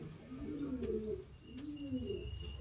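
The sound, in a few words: Indian pigeon cooing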